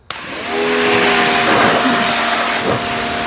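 Yeryork pressure washer motor starting abruptly and running in a steady loud whine and hiss while drawing detergent from its bottle by suction, with no talk.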